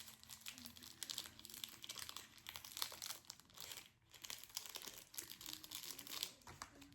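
Crinkly packaging wrapped around a handmade blown glass heart pendant rustles and crackles as it is handled and unwrapped, in irregular bursts up close, with no speech.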